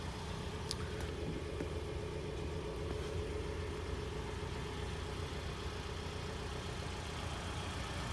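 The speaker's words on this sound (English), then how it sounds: "And I got the car on too, by the way. I don't know if you can hear it, but running really smooth." A 2014 Mitsubishi Outlander Sport idles smoothly at a dealership, a faint, steady low engine hum running continuously under quiet background noise, with no talking.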